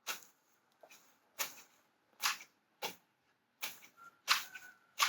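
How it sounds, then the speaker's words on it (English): Large gardening scissors chop a pile of pulled weeds, making about nine sharp, crisp snips spaced irregularly, close and fairly quiet with nothing else around. "We're just gonna keep chopping so we can get these weeds into more smaller, more little pieces"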